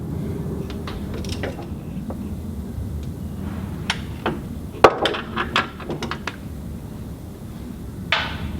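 Metallic clicks and ratcheting taps of a 13mm socket working bolts loose on a Land Rover Discovery 2 front end, scattered and close over a low steady background hum.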